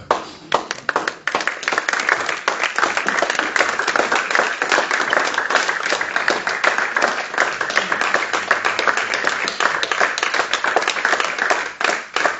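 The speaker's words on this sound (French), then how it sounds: "allons nous mettre debout et acclame le Seigneur pour sa parole ce soir" Church congregation on their feet applauding to acclaim the Lord, a sustained burst of brisk, dense hand clapping from many people, loud and even throughout with faint voices mixed in.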